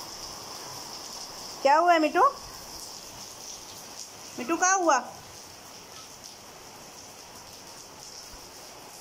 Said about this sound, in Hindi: अचानक ही बरसात शुरू हो चुकी है, बहुत तेज़ वाली बरसात शुरू हुई है